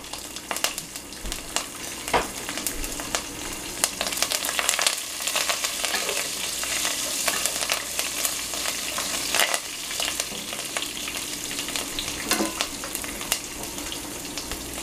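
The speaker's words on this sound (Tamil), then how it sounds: "கருவேப்பிலை, மிளகாய், வெந்தயம் எல்லாத்தையும் போட்டு கொஞ்சம் வேக விடுங்க." Cumin, curry leaves, dried chilies and fenugreek seeds fry in hot oil for a South Indian fish curry, making a continuous close sizzle with sharp pops and crackles and occasional stirring scrapes, no talking.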